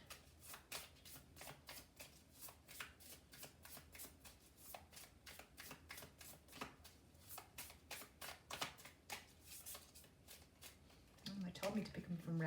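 Small, simple love oracle cards are shuffled by hand in a fast, rhythmic run of crisp riffling flutters, close and quiet, ending with a softer rustle as cards are pulled.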